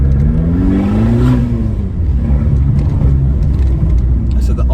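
Abarth 595 Competizione, 180 hp, with a Monza exhaust: a loud, steady engine drone held near and close throughout, rising in pitch briefly as the car pulls in first gear, with a voice talking over it.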